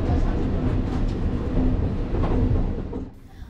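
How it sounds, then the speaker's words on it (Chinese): Alishan Forest Railway mountain train moving slowly along a zigzag switchback line: a continuous low rumble of wheels on rail with faint squeals and rattles, close and steady, dropping off near the end. "火车缓缓行驶"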